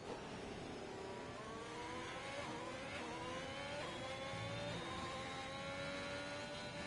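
Race cars including an Aston Martin and a Ferrari accelerating at a racing video game's United States Grand Prix, a continuous engine whine climbing through rising gears, moderately faint and unaccompanied by talk.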